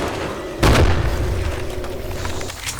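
A single booming gunshot in a video game, a heavy low blast that fades into a rumbling tail over steady background noise.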